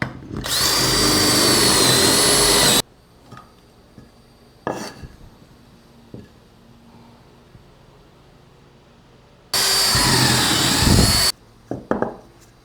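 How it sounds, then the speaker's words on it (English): A power drill bores a dowel hole through a self-centering jig in wood, two loud sustained whining bursts a few seconds long, separated by quieter handling clatter and light knocks. "and then you can drill the hole out."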